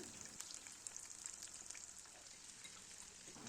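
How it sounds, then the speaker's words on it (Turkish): Steady crackling sizzle of sauced potato patties frying in hot oil, continuous and close, with small pops scattered throughout and no voices. "Evet yine sosladığım köfteleri kızgın yağın içerisine aldım. Kızartmaya devam ediyorum."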